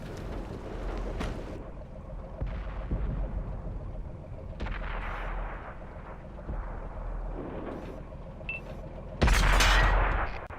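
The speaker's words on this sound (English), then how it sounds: "Ready to fire on target" Tank cannon fire in a combat video game, heavy booming shots against a target over a continuous rumbling battle bed, with a loud blast near the end standing out from the rest.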